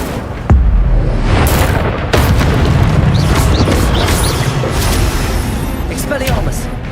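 The Incendio fire spell is cast in the video game Hogwarts Legacy and bursts with a loud booming blast, followed by a sustained roaring, crackling rush of game effects. A player's voice is heard over the game sound.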